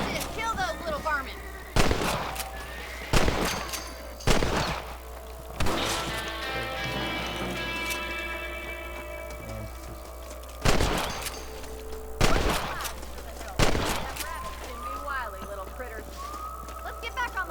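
Rifle shots ring out in the Red Dead Redemption western video game: about seven loud, sharp cracks spaced irregularly over a low game soundscape.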